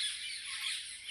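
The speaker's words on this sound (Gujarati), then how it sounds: "પક્ષી કેવા બોલે જોઈ લો" Birds calling near a village lake frequented by peacocks, a dense, continuous high-pitched chorus of squawking calls at moderate distance with no talking.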